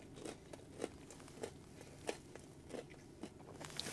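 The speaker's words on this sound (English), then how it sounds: "Let's take a bite." Someone bites into pan-baked food, producing soft close crunches and bites at a steady pace, roughly every half second, with light chewing between.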